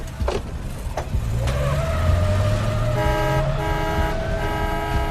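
Car horns honking in city traffic within a radio drama, with several short toots followed by longer sustained blasts over the low rumble of idling engines.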